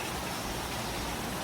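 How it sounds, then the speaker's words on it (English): Steady rain falling in Fiji, a dense, even hiss of drops covering everything with no breaks, close and moderately loud. "It's raining, as you can see"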